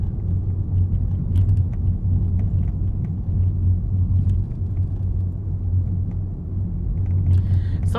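A car drives steadily during a driving test, heard from inside as a continuous low engine and road rumble, even and unbroken throughout.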